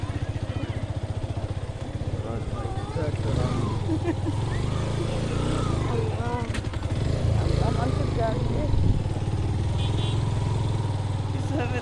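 A motorbike ridden along a seaside island road, its engine droning steadily and close throughout, with wind and road noise and people talking over it.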